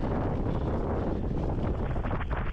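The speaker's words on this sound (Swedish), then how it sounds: "så här blåser det väldigt mycket" Strong wind roars steadily against the microphone during a winter storm, a constant loud rumbling buffet with no pauses.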